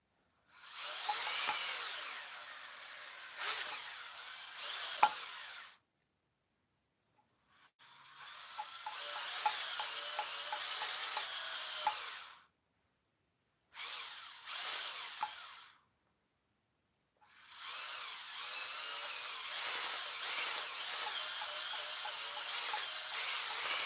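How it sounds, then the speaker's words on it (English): Engine valves being ground into their seats with a power tool, bursts of whirring grinding several seconds long separated by short pauses, moderately loud and close. "You have to grind the valves the way I'm doing it."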